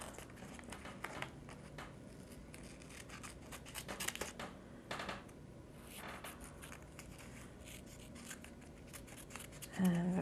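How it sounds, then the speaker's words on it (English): Scissors snip through traced paper shapes for a Britto-style collage, a close, steady run of crisp cutting and rustling with small crinkles. A louder rustle comes near the end. "I'll cut those out."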